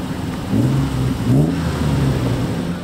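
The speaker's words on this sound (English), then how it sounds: "That's the winch car over there, winching" A winch vehicle and other vehicles work to pull a car stuck in flood mud in the Tankwa, their engines droning loudly and steadily with rising revs, heard close and without talk.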